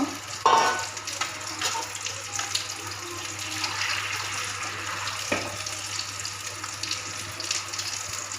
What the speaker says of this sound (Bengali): মশলা ধোয়া জল ছিল সেটা দিয়ে দিলাম আর একটু জল দেব